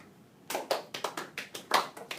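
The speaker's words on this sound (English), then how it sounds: "Now, clap." Children in a classroom clap about nine times in a loose, uneven rhythm, each clap sharp but fairly quiet after a brief silent pause.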